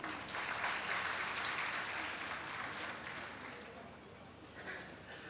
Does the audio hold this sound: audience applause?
yes